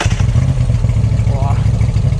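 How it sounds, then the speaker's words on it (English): A motorcycle runs with no exhaust fitted, giving a loud, close, raw mechanical rumble that holds steady throughout with a rough, pulsing low throb. "But first we test it without an exhaust. Let's see how it sounds like."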